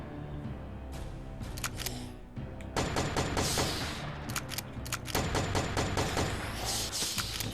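Repeated gunshots ring out in the video game Corpse Killer, rapid sharp cracks coming in clustered bursts over a dense, busy background of game sound and music, loud and continuous throughout.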